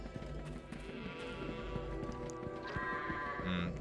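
Sheep in a Charlie and the Chocolate Factory video game, with bleats and hoof-like clip-clop sounds over a busy game soundtrack, closing on a brief bleat-like tone.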